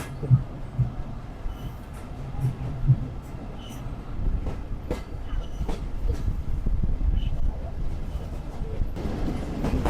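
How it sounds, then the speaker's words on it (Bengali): A commuter train departs Nizampur railway station, rumbling with a low, rolling roar and rhythmic clacking of wheels on rails, growing steadily louder as it moves off. "অপরাজিতা কম্পিউটার নিজামপুর রেলওয়ে স্টেশন থেকে ছেড়ে গেল"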